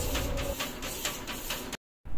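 A DTF transfer printer runs at close range with a steady mechanical whir and regular shuttling pulses, then cuts off abruptly and falls silent for a moment before the sound resumes.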